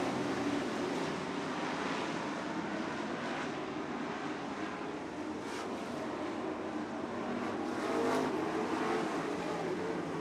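Dirt track race cars roar around the oval at a Grand Nationals event, a continuous distant engine drone rising and falling as cars pass, with no talk over it.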